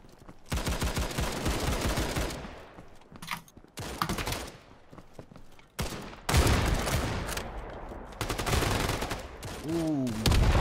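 Gunfire during a capture-the-flag match in the shooter Battalion 1944, with repeated bursts of rapid, loud shots broken by brief pauses across the span and faint voices underneath.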